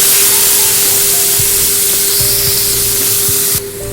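Chhana dalna curry sizzles in a frying pan with a loud, steady hiss while a utensil stirs it, giving scattered soft scrapes and knocks close by.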